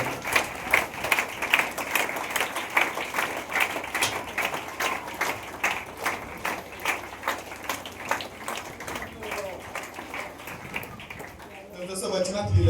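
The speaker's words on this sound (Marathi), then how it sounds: "सगळ्यांनी टाळ्या वाजवा." An audience at a birthday gathering for a church founder claps in a steady rhythmic beat, loud and close, continuing for about twelve seconds before tapering off.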